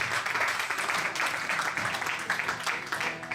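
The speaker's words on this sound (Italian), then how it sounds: "Un applauso, grazie." An audience at a Forte Marghera gathering applauds in a dense, steady wash of clapping that stays fairly loud throughout, with some voices mixed in.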